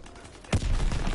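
A Thompson submachine gun firing in a World War II video game, a sudden close burst that starts midway and continues as a dense rattle after a quiet lead-in.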